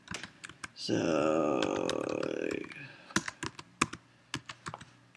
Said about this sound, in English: we'll go ahead and type those in.